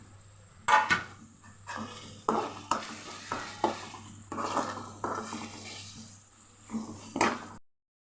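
Tomatoes fry with ginger-garlic paste in a pan for a chicken pulao, a steady close sizzle broken by repeated scraping stirs and occasional utensil clinks against the pan.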